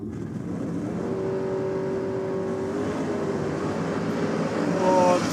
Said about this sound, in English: Pat Friolo, the Austral Steel HQ Holden, 350 Chev on board for him.